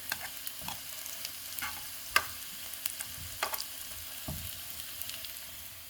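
Potatoes frying and browning in a pan give a soft, steady sizzle, with scattered clicks and scrapes of stirring rising above it.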